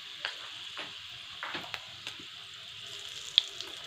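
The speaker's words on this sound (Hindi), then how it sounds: "इसे थोड़ा सा तड़कने देंगे" Whole cumin, fenugreek and dried red chillies crackle softly in hot oil, a light scatter of faint pops and sizzles close by, with no talking.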